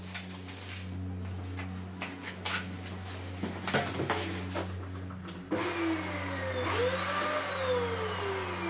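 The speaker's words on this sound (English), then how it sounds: "I'm using my vacuum casting station that is basically a mock-up of funnel attached to a vacuum cleaner." A vacuum cleaner attached to a funnel serves as a homemade vacuum casting station for pouring cast iron melted in a microwave, producing a steady droning hum with whistling, sliding tones that grows louder and harsher partway through.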